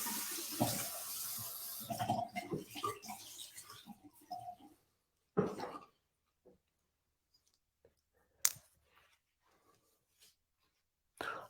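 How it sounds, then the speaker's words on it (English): Water splashes at a bathroom sink while a face is rinsed, with close, fairly quiet bursts of running and splashing water that give way to sparse, faint drips and clinks. "And then I'm going to go ahead and rinse this out."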